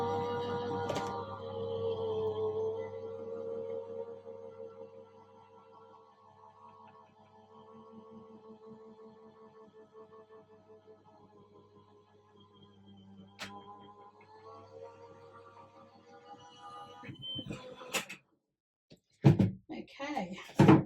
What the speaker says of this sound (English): So I'm just going to pop it in and run it through the machine and let it do its